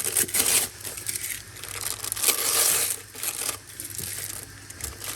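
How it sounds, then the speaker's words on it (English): Paper being torn away from around a flour-dusted piece of Jamaican-style fried chicken, giving a steady run of close crinkling, ripping rustles with no talking. "Almost tear off the excess paper from around it."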